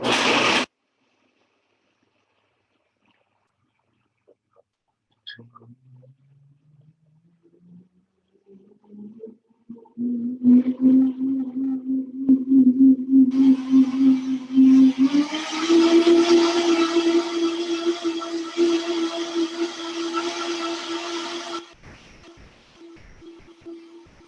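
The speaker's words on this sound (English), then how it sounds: "So I'm just going to blend it, be a little noisy for a bit." A Vitamix high-speed blender blends soaked cashews into a cream sauce. After a few quiet bumps, the motor whine climbs in pitch, then runs as a loud, steady roar for about ten seconds before cutting off.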